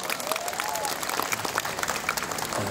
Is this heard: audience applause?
yes